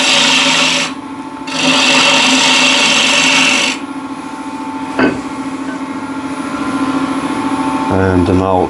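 A ball gouge cuts wood on a lathe while routing out a trinket box, giving loud, steady rasping bursts of cutting against the hum of the spinning lathe, with pauses between passes and a brief knock near the end.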